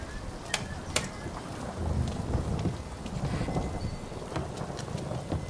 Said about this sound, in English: It's rainy, Tom.